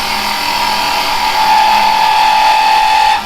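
A wood lathe cuts with a carbide chisel while the work is held only in a rocket chuck. A loud, steady whine with a slight vibrating edge runs for about three seconds, then cuts off.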